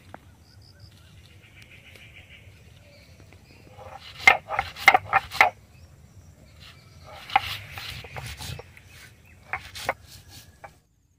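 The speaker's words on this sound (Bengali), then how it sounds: "লঙ্কাটা বেটে নি।" Dry chili being ground on a village grinding stone, with a few bursts of rough scraping and knocking strokes near at hand amid faint background noise and some distant bird sounds.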